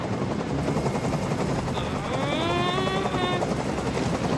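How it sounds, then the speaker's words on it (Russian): Helicopter hovering in the video game Detroit: Become Human, a steady loud rotor chop with a rising whine layered over it, continuous throughout. "Как же меня бесит этот звук! Прикажи им, чтобы вертолет убрался!"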